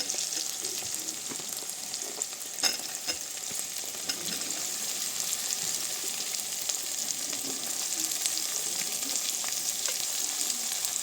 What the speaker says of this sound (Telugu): ఇప్పుడు బెండకాయ ముక్కలు వేసుకోవాలండి